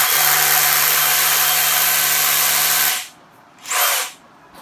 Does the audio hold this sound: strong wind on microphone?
no